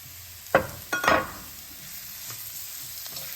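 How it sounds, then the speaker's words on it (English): Masala dosa potato filling, mashed potatoes with spiced onions, sautéed in a pan: a few quick scraping stirs near the start under a soft sizzle, then a quieter steady fry with faint occasional scrapes. "Again, constantly sauteing so that nothing burns."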